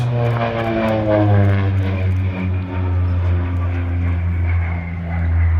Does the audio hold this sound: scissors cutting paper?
no